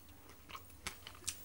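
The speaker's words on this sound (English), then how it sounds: "Hear that crunch." Close, faint crisp crunches from someone eating deep-fried parsley and whitebait dressed with lemon, a few irregular bites with no talking.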